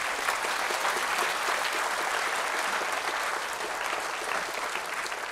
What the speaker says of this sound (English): Please continue for another 5 minutes with the applause.